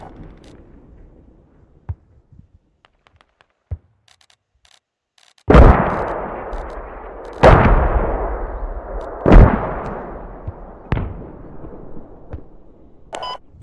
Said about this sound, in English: Can you keep your eyes and ears out when I open these mortars?